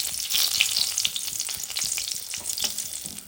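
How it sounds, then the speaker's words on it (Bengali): Three halved dried red chillies sizzling in well-heated oil, a dense steady crackle with quick sharp pops throughout, close and with no voices. "তেলে 3টি শুকনো লঙ্কা দিয়ে দিচ্ছি"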